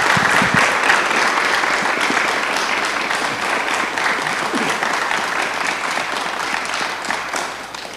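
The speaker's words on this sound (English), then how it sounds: "Let's give them a big round of applause." Audience applauding at a city council meeting, sustained dense clapping from a roomful of people, loud and even, slowly tapering toward the end.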